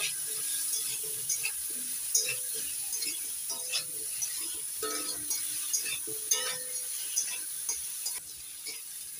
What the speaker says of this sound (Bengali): এবার নাড়াচাড়া করে লাল লাল করে আলুগুলো ভেজে নেব।